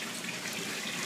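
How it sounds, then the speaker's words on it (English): Water drains from an aquaponics grow bed through an auto siphon, a steady close rush and gurgle of flowing water that goes on unbroken, with no talk. "This bed is just draining."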